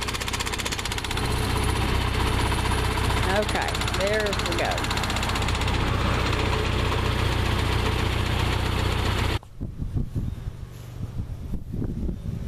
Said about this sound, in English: the tractor's vibrating, the lift's vibrating